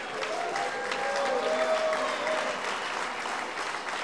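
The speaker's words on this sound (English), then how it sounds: "Let's give one more big round of applause to our bride's father." Wedding guests at the Mark Hopkins in San Francisco give a warm round of applause for the bride's father, with dense, even clapping and a few faint voices that continue steadily and fade slightly by the end.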